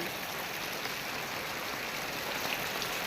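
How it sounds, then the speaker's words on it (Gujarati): Steady, dense hiss of heavy monsoon rain pouring down in a village, constant and even throughout with no pauses or other sounds. "આ મગા નક્ષત્રમાં પડે છે વરસાદ"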